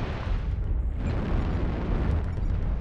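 Missile explosion in the mech combat game MechWarrior Online: a loud, sustained rumbling blast with broadband crackle, holding steady throughout with no pause.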